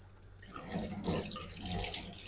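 Tap water runs steadily into a kitchen sink while raw shrimp are rinsed clean by hand, a close, continuous splashing stream with no talk.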